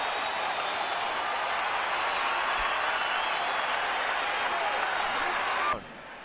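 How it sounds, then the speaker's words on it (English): A large arena crowd at a professional boxing match in Las Vegas roars with sustained cheering and applause, a dense, loud wash of noise that cuts off abruptly near the end. "The crowd's on its feet."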